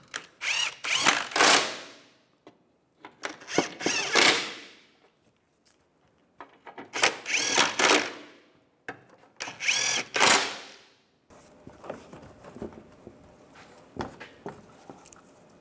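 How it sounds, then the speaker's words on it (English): A power drill tightens the screws on the right front CV axle of a 2004–2010 BMW X3. Several short, loud bursts come with pauses between them, followed by quieter clicking and ratcheting at the end. "And then you can tighten them all down."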